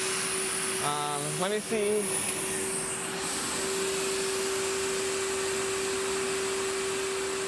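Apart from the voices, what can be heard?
MetroVac vacuum cleaner running with both motors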